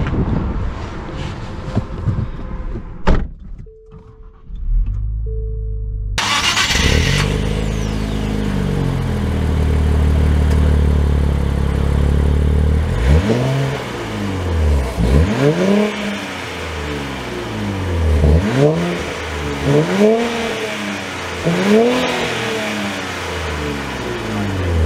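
A 2023 Nissan Z's engine, heard from inside the car, idles, then revs repeatedly toward redline in loud rising and falling sweeps, each climb followed by a drop, with steady wind-like hiss throughout.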